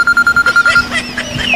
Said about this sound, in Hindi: अरे भैया हमारे फोन आई